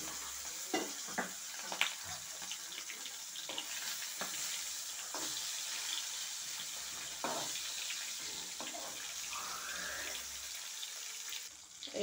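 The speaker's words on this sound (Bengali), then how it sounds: "মাছটা ভেজে নেব তেল দিয়ে।" Prawns, golda chingri, frying in hot oil in a karahi over a stove, a soft continuous sizzle broken by light scrapes and knocks as the pieces are added and moved.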